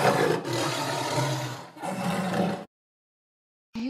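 A tiger roars in a steady, loud, close growling burst of about 2.5 seconds with a short break partway through, then silence before another sound begins at the end.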